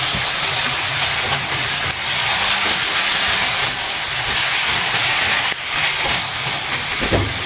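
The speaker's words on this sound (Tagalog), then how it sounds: "ihulog po natin yung ating pinantay na taukwah." Cut tofu sizzles loudly in a hot pan, a dense, steady hiss of frying oil close by that carries on for several seconds, with a couple of brief shifts as pieces settle.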